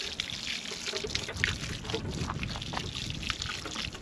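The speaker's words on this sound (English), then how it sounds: "Water the roses in." Collected rainwater being poured from a container onto roses in a garden at an RV camp, a continuous close splashing trickle with irregular drips.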